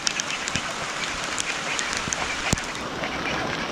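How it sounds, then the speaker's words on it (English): Heavy rain pours down steadily on a farmyard near a duck house, a dense hiss with scattered louder drips and taps, no talk over it. "now it's really raining"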